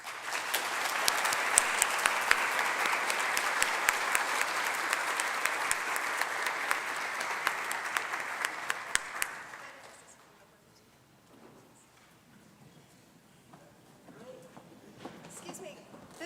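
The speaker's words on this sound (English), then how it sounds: "please join me in a round of applause for all of the speakers" Academic festschrift audience giving a round of applause for the speakers, dense clapping with a few sharp close claps, lasting about nine seconds before fading into quiet room noise and faint movement.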